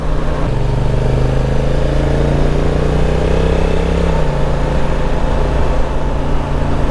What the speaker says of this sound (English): No need to touch the brakes, just use engine braking.